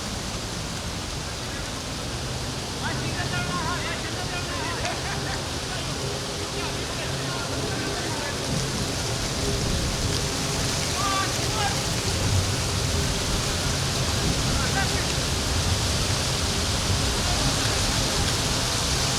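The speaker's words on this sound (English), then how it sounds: "Had a slight drizzle." Light drizzle at a cricket ground gives a soft, even hiss throughout, with faint commentary and crowd murmur beneath.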